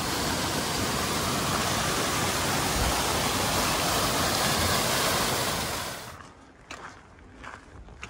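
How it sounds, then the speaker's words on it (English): Loud, steady rush of a running stream on the Pacific Crest Trail, dense and close, which drops away abruptly near the end to quieter rustling and faint movement. "we've got water running here."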